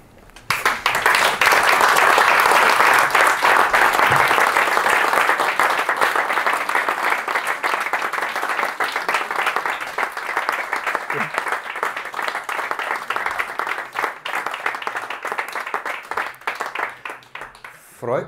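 A lecture-hall audience claps at a talk, sustained applause that starts loud and full, then slowly thins and fades toward the end.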